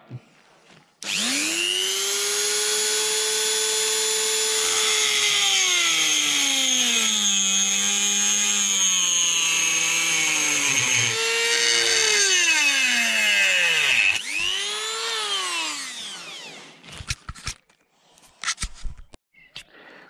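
A loud power tool whines close by as it cuts a carbon fibre plate for a central differential mount. Its pitch dips and rises with the load for about fifteen seconds, then it cuts out, followed by a few light clatters.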